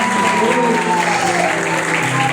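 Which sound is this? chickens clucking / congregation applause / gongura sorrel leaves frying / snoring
congregation applause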